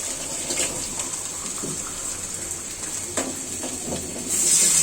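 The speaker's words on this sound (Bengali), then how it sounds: "আমি এখন এটাতে পানি অ্যাড করে দিব" Water streams and hisses steadily for several seconds as it is poured into a pot of boiled pumpkin, a continuous pouring gush that grows slightly louder near the end.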